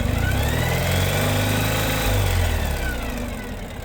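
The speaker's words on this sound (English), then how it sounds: "as you rev this engine, take a listen to how nicely it falls back to idle" A 2017 Ural Gear Up 2WD sidecar motorcycle engine, steady and close, giving a brief rev that settles back into an even, rumbling idle without dipping.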